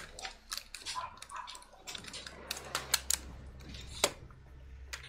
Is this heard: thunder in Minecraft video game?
no